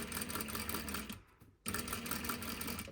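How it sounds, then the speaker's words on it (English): Sewing machine running a steady line of stitching to join the front and back of single-fold bias tape, a continuous close mechanical whir that pauses briefly midway, then resumes. "You're just doing a line of stitching"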